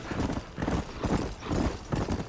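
Horse hooves clip-clop at a steady trotting rhythm in Red Dead Redemption, close and continuous, with repeated soft thuds and no talk over them.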